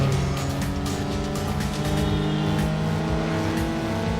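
Race car engine roaring at sustained high revs with tire noise in the video game Need for Speed Underground, a steady loud drone with shifting pitch throughout.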